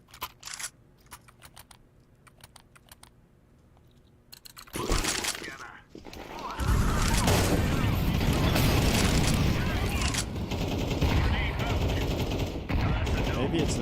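A shotgun firing in a first-person video game, heard after a stretch of quiet keyboard typing. Loud blasts and gunfire then fill the rest of the clip, close and dense.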